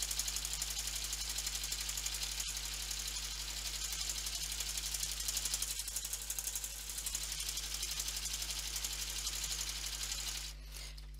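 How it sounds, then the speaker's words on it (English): A Brother F420 sewing machine stitches a buttonhole on its own, a fast, even, close mechanical whir with a low steady hum underneath that runs throughout and eases off at the very end. "I can press the start stop button and stitch the buttonhole without having my foot on the foot control"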